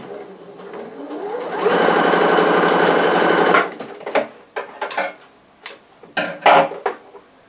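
A domestic sewing machine stitches a seam on a vintage style apron, running in a steady loud whir for about two seconds, then stopping, followed by scattered clicks and handling knocks of fabric and machine parts.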